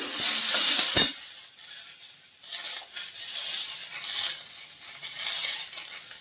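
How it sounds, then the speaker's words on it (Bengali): Spices fry lightly in oil with a bright, close sizzle that fades and returns. A single sharp metallic clink sounds early on, then soft stirring continues under the hiss. "হালকা তেল মশলা দিয়ে করবো। এটা একটু ভেজে নিচ্ছি।"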